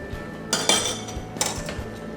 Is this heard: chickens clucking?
no